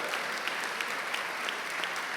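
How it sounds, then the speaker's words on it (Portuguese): A church congregation applauds during a sermon, a dense, even wash of many hands clapping with occasional sharper claps standing out, fairly quiet and distant, with no talking over it. "Você pode aplaudir Jesus pela vontade dEle"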